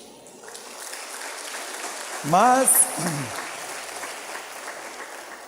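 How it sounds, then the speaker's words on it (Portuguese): A church congregation applauds Jesus during a celebration service, a steady wash of clapping filling the room, with a voice briefly speaking over it midway. "pode aplaudir Jesus por isso"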